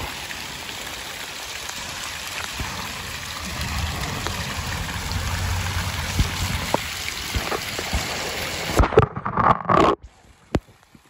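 An iPhone 11 is dunked in water, giving a steady muffled rushing and sloshing hiss, then a few knocks and splashes before the sound cuts off abruptly.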